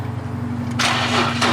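A Nissan 350Z engine with lifters needing oil cranks and catches, settling into a rough, steady running rumble with a broadband roar after the start.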